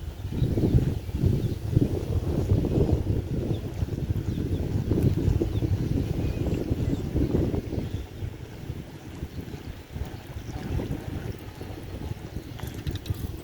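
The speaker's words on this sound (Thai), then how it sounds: "ช่วงนี้กำลังลมกำลังแรงๆเลย" Strong wind gusts across a riverbank fishing spot, a steady low rumbling buffeting against the microphone with surges and lulls, continuous and fairly loud with no voices.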